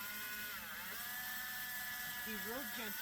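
A small drill fitted with a 3/32 inch bit whines steadily while boring a hole in a small acorn charm, a faint, thin motor tone with a slight dip in pitch partway through.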